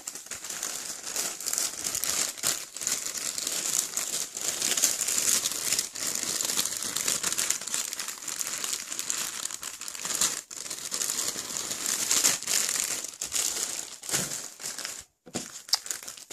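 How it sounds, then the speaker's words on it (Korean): Plastic bags crinkle and rustle continuously up close while small gifts like stationery, a bracelet, memo paper and stickers are packed, with brief dips in the handling noise. "이거 비닐 봉지도 예쁜 봉지 넣고"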